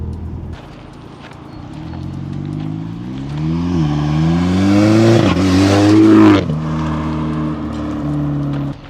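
An Audi TT engine with a new RamAir induction intake revs up close by, its pitch climbing steadily to a loud, roaring peak before dropping back to a steady idle.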